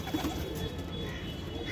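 Pigeons on a rooftop loft give soft, low cooing against faint background hum, close and quiet, with no talk.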